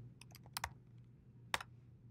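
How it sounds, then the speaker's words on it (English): Computer keyboard keys click in a short, uneven burst of typing, a few quiet taps followed by sharper isolated strokes, close and alone over a low steady hum. "Again, click on the box and start typing."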